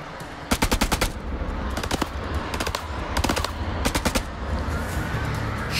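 Gunshots in the video game House of Ashes ring out in rapid clusters of sharp, loud cracks, with several distinct bursts spread through a noisy background.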